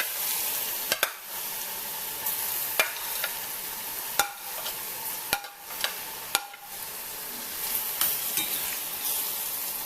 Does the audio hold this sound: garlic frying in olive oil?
yes